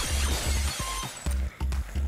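Zombies turned to glass shatter as they are shot in a video game, a few quick breaking crashes over a pulsing game music bed.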